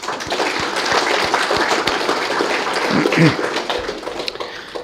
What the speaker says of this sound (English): a collective round of applause is in order